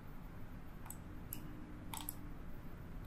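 Mouse clicks in AiHouse design software during a coating design lesson, a few sharp, light clicks spaced apart over a steady low background hum, fairly faint and close.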